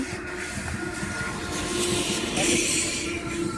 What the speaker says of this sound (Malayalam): ആ ട്രെയിൻ വരുന്നതൊന്ന് അടുത്തൂടെ പോകുന്നതൊന്നും ഇടാൻ എടുക്കാൻ പറ്റത്തില്ലല്ലോ